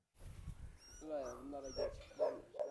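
Newborn puppies whimper and yip in short, wavering cries at close range, mingled with people talking nearby.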